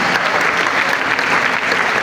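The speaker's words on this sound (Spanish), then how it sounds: "den un aplauso al Señor por su mente sana" A church congregation at a youth congress claps loudly and densely, a brief, unbroken burst of applause with no speech over it.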